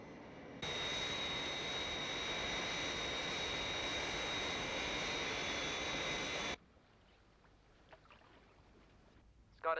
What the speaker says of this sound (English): Scott has made a good takeoff, Father, in the Fireflash.